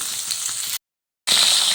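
Falui fish fry in hot oil, a bright crackling sizzle that runs steadily, cuts to silence for about half a second, then resumes just as loud.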